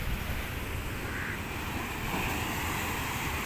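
Sea waves wash and crash steadily against a pillar at Kasimedu beach, Chennai, a continuous roaring surge of water with some wind buffeting, no voices.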